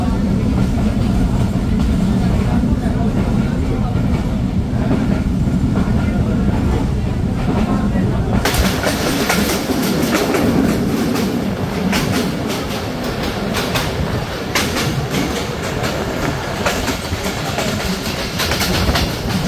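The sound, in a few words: passenger train running on tracks, Bangladesh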